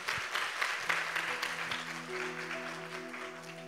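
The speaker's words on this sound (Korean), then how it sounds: "우리 한성희 집사님 박수로 격려하겠습니다" Congregation applauding at a church gathering, a moderate, steady patter of many hands clapping, with sustained tones from an instrument entering underneath partway through.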